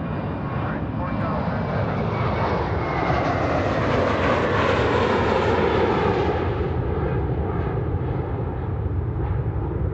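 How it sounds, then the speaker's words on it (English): Airliner jet taking off from runway 28R at Fort Lauderdale airport, a loud, steady engine roar that swells and sweeps in pitch as the aircraft passes, continuous for the whole stretch. "Clear to take off."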